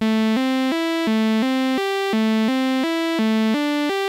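A bright, buzzy sawtooth tone from an initialized synthesizer patch plays a short repeating sequence of held notes stepping up and down, clean and loud with no other sounds.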